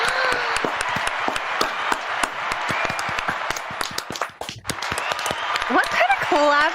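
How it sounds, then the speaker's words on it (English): Audience applause: a crowd claps in a dense, steady patter that dips briefly and then picks up again, with people talking and cheering over it. "They can hear the applause."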